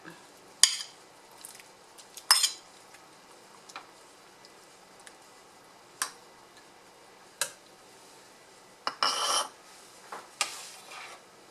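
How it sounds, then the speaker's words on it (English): Peppers and shrimp being added to a pot of mung beans with butternut squash, giving scattered clinks of a utensil against the pot and soft splashes, faint and close, with quiet pauses between. "we'll go ahead and add our peppers and shrimp"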